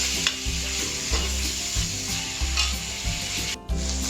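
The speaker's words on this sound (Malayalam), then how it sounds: "എന്നിട്ട് അതും ഒന്ന് നല്ലോണം വാടുന്നിടം വരെ ഇളക്കുക." Chopped tomatoes stirred and fried in a pan for beef curry, a steady close sizzle with periodic scraping stirs over a low music bed, no talking.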